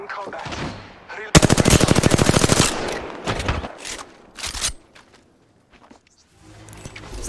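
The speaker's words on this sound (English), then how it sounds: "I am taking fire." Rapid automatic gunfire from the Call of Duty: Modern Warfare II video game bursts loudly at close range for over a second, followed by a few separate shots and scattered game effects.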